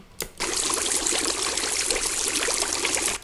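Steady rushing, splashing water from a video game fountain, starting abruptly after a brief click and running continuously without any talk.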